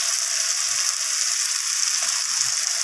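Ginger paste fries in a pan with onion, tomato and capsicum for a chicken curry, giving a steady, close, continuous sizzle with no talking.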